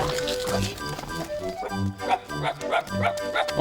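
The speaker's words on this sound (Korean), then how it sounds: "강아지들이 귀엽긴 하지만 갑자기 달려들자" Puppies bark in quick, scattered yaps as they rush toward a small child, close by and mixed with people talking and other background sound.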